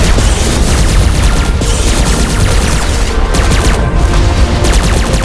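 Dense, loud gunfire and booming explosions pour out nonstop in the Asteroid Bounty Hunter space shooter game, rapid fusillades layered over heavy blasts with no pauses.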